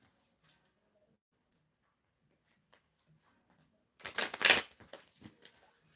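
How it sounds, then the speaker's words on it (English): A deck of tarot cards is shuffled by hand: near-silence, then one brisk, crisp burst of riffling cards lasting under a second, followed by a few faint taps. "let me shuffle these real quick"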